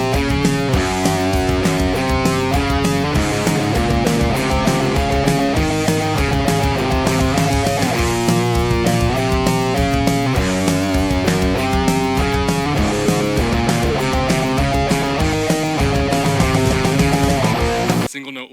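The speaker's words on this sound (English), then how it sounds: "Now another thing with a sound like this were single note lined riffs." Distorted electric guitar with a pop punk tone picks simple single-note riffs in a driving, continuous loud line, played alone before stopping near the end.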